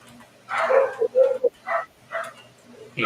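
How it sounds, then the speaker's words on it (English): Dogs bark several times in short irregular bursts, some yips and whiny barks at moderate distance, with a brief break before more barking; no talking. "You hear the dogs?"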